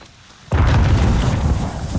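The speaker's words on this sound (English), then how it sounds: "Smokes are out, nades are out as well." Grenade blast in a Call of Duty esports match, Florida Mutineers against London Royal Ravens: quiet ambience gives way to a sudden loud booming explosion that rumbles on heavily for over a second.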